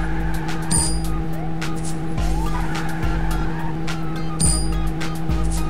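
A kids' cartoon driving game car chase with steady engine hum, repeated short tire skids and squeals through curves, and bright game sound effects layered on top.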